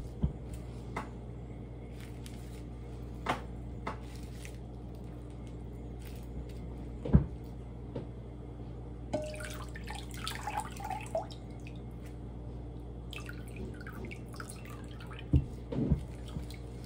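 Freshly shaken butter is rinsed in cold water, heard as sparse drips and small splashes with soft squishy, watery bursts in quieter stretches, close and fairly faint.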